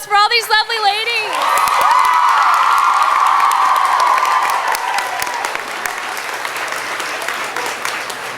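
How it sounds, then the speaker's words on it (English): An assembly hall crowd at a Girls State evening assembly bursts into loud applause and cheering after a few spoken words, with high whoops and shouts riding over dense clapping that stays strong and then eases slightly. "Let's give another round of applause for all these lovely ladies"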